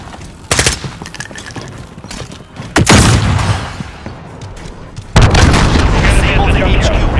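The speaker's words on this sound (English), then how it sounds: "Enemy cruise missile." Cruise missile strike in Call of Duty: Modern Warfare: heavy booming explosions and rolling blasts, with a big impact near the three-second mark and a sustained roaring barrage at the end, under in-game voice announcements.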